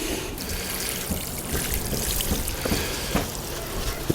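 Water poured from a can onto freshly potted garden plants, a continuous close splashing trickle with a few small knocks, running steadily throughout.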